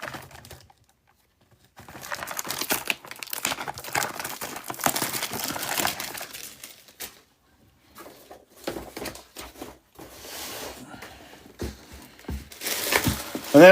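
Skybox Metal Spider-Man trading card blaster packs being ripped open by hand, a run of close, crackly foil tearing and crinkling bursts with short pauses between, no talking.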